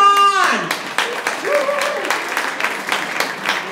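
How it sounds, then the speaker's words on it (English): An audience applauds at a book event, dense clapping under a voice that speaks over it from start to finish. "Give a round of applause, everybody!"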